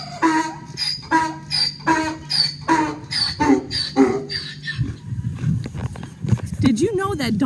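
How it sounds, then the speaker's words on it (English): Donkey braying loudly in a farm barn, a series of rhythmic, harsh, wheezing heehaw cries repeated close by, followed by rustling and other farm noises. "Did you know that donkeys can make such a loud sound?"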